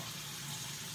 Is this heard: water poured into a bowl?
yes